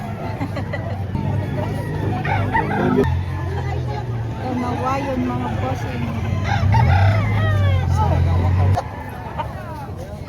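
Roosters crow loudly and hens cluck at a busy chicken market in Padre Garcia and Lipa City, Batangas, with calls overlapping someone talking and crowd murmur throughout.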